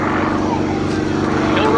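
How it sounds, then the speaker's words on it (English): A Sukhoi SU-31 aerobatic airplane with a radial engine flies at an air show at MCAS Cherry Point, a loud steady propeller drone with an announcer talking over it. "time flying this radial engine-powered, tractor-sounding monster, the Sukhoi SU-31"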